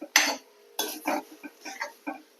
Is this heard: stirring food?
yes